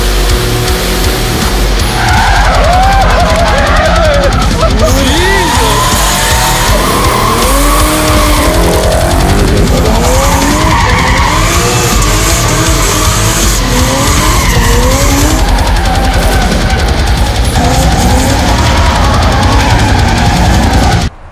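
Tires squeal and skid continuously as a 2000 Ford Lightning truck's engine roars and revs loudly, with repeated swooping screeches as it spins doing donuts.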